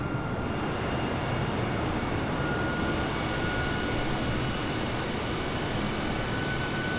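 Airbus A320neo climbing in Microsoft Flight Simulator 2020, a steady broadband engine roar that holds loud and even throughout, with no talk.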